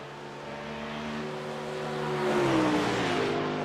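A Porsche GT3-class race car engine in a Nürburgring 24-hour sim race, revving and swelling louder as it closes in and passes, its steady harmonic drone rising toward the end.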